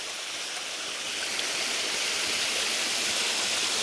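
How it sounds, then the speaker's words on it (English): A small woodland waterfall formed where a fallen log crosses a creek above White Oak Falls, a steady dense rushing and splashing of water close by with no voices. "another waterfall caused by a fallen log"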